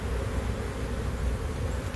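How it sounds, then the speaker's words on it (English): Honeybees humming inside an open hive colony during a frame inspection, a dense continuous buzz close by with no talking. "Actually have a bee coming out right there."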